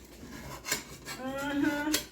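A utensil scrapes and clinks against a cast-iron skillet while prying out cornbread, making short metallic taps followed by a drawn-out rasping scrape, close and fairly quiet.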